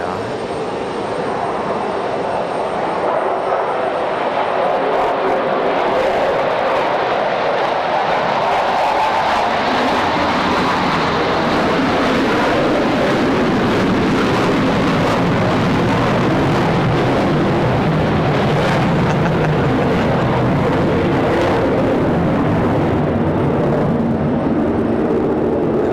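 F-15 fighter jet passing over Raleigh-Durham International airport, a loud, broad roar that swells and sustains for the whole span with a sweeping tonal shift, heard alone without talk.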